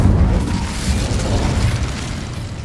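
An Incendio fire spell in Hogwarts Legacy bursts with a dense, roaring blast that holds loud and close for a couple of seconds before slightly easing, with no voices.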